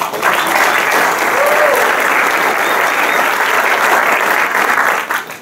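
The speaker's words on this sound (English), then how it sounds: "So please give them a round of applause" Audience at an ACLU of Northern California Bill of Rights Day event applauds a jazz trio with guitar and bass, a steady, dense wash of clapping that stays loud and even throughout before tapering at the end.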